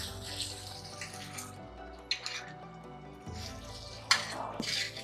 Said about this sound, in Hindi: अब इसको थोड़ा सा हम भूनते हैं,